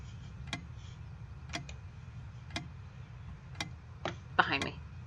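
Clock ticking in a video game, with crisp single ticks about one second apart over a low steady hum and a brief scuffling noise near the end.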